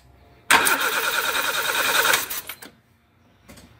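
A Dodge Forza with a cylinder fault cranks and catches, a loud close engine start that runs rough for about two seconds and then cuts out, followed by a brief faint second attempt.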